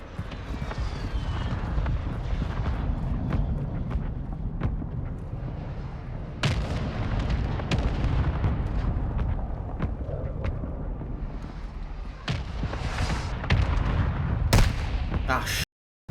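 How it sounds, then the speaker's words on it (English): Mortar strike explosions rumble in Warzone 2, a sustained heavy low roar with sharp cracks and bursts layered on top, loud and continuous. "Mortar strike on the way."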